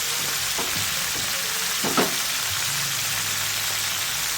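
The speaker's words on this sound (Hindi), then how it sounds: "प्याज को थोड़ा सा फ्राई होना है ताकि ये गोल्डन ब्राउन हो जाए।" Onion with garlic-ginger paste fries in a pan with a dense, continuous close sizzle, a few soft stirring clicks rising briefly through the hiss.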